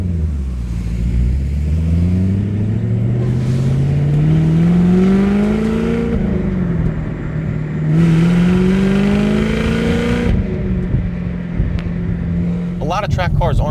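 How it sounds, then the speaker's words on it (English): A 2019 Chevrolet Camaro 1LE V8 revs up through the gears with rev matching, its pitch sweeping upward in two long pulls with a throttle blip between shifts, loud and close, ending with a short burst of higher noise. "And listen to that rev matching."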